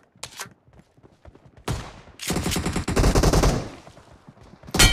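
M16A4 rifle firing in a team deathmatch video game: a few scattered early shots, then long loud bursts of rapid automatic fire, with another burst at the close.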